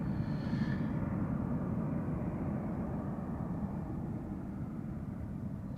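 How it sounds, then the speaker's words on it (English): A heavy jet airliner climbing after departure from Amsterdam Schiphol makes a steady, loud low rumble and roar that fades slightly over several seconds. "I think we just missed the departure of a heavy from center"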